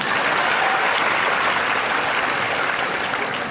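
A crowd at a student guidance event claps steadily and loudly throughout, a dense continuous wash of applause with no pauses.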